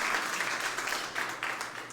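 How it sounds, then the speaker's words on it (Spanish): A church congregation claps together in a short, steady burst of applause that fills the room for about two seconds. "Un aplauso al Señor."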